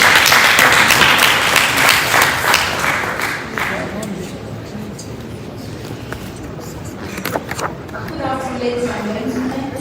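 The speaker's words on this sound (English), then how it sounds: "please let's give her a round of applause." Applause from a crowd, dense clapping that fades after a few seconds, with murmuring voices and rustling continuing underneath.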